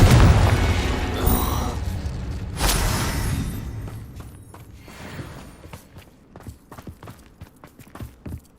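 Confringo blasting spells explode in Hogwarts Legacy, with a loud booming burst early on followed by rumbling debris and a scatter of sharp cracks and thuds fading out.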